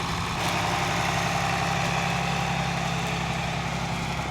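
A 55-year-old tractor fitted with self-steering runs its engine in a steady, loud idle-like drone, close by and unbroken, with no talking.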